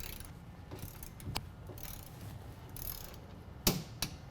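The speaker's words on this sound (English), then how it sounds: "then we're going to torque these down to 65." Torque wrench tightening bolts while installing a Havoc Offroad 6.5-inch lift kit on a 2016 Chevy Silverado 1500, giving scattered mechanical ratcheting clicks with a couple of sharper close clicks near the end over low shop noise.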